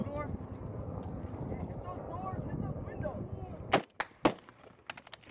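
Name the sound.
enemy gunfire in Afghanistan combat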